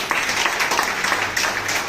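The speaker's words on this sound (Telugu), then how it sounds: "వీళ్ళకి స్పెషల్గా చప్పట్లు కొట్టాడు ఒకసారి గట్టిగా." An audience claps loudly at a meditation gathering, a dense, steady wash of applause from many hands that keeps going without a break.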